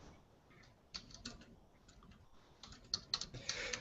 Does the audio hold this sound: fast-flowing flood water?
no